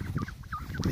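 Chickens clucking near a small pond beside ducklings, several short, close clucks in quick succession with soft barnyard noise underneath.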